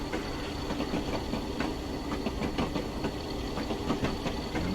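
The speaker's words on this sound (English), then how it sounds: "no shortage of wheels making the old clacking noise" Class 40 diesel train in Train Simulator rolling over jointed track, wheels clacking in a steady, regular rhythm over a low, constant engine drone.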